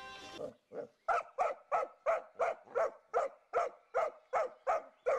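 Dogs in a home garden, angry at a hedgehog, bark about a dozen times in a steady, evenly spaced rhythm, each bark loud and close, after a short whine at the start.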